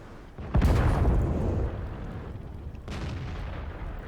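A tank cannon firing in the video game World of Tanks: one loud, deep boom with a long rolling decay, then a second, softer shot about two seconds later.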